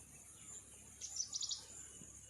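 Birds tweet briefly at a rural mango farm, a short cluster of high chirps rising over a constant background hiss of insects.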